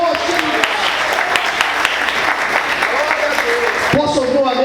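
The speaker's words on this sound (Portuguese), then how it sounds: "Você pode aplaudir o Senhor, aleluia. Aplaude o Senhor mais forte." A church congregation claps together in steady, dense applause during a worship service, loud and close, with a voice speaking over it and the clapping thinning out near the end.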